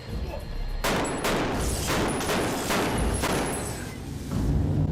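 Sustained burst of gunfire from the TV show Fringe, loud rapid shots in clusters with booming low end, a dense fusillade that runs nearly continuously across the whole stretch.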